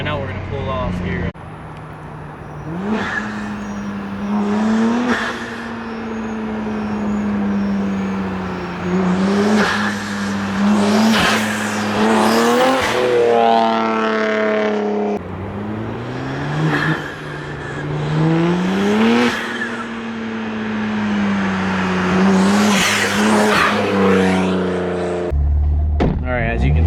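A BMW G80 M3 with front mount intakes accelerates hard through repeated gear changes, its engine note climbing and dropping in loud sweeps from inside the cabin, with talk over it.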